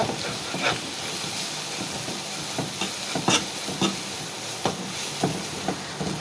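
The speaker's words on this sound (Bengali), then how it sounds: "নাড়াচড়া করে নিব তেলের সাথে মশলাটা ভাজা হয়ে গিয়েছে" Ground coriander and cumin fry in hot oil with a steady sizzling hiss, broken by sharp clinks and scrapes as a utensil stirs the pan at an irregular pace.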